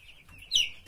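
A chick gives a single high, thin peep that rises sharply for a moment over quiet farm background noise.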